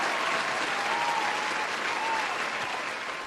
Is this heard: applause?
yes